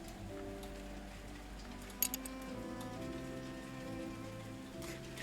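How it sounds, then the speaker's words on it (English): Storm rain falling outside a house, a soft steady patter under calm game music with a few faint clinks, no voices. "Oh, it is storming outside my house."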